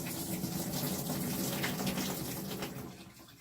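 Steady running water pours and splashes into a film developing tank for a rinse after the fixer, a continuous gushing rush that eases slightly toward the end.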